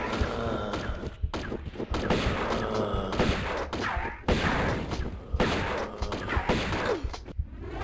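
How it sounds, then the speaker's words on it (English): Enemies open fire in Tomb Raider Remastered with loud, rapid volleys of gunshots in repeated bursts, sharp cracks and ricochets separated by brief pauses. "Oh, that's them shooting."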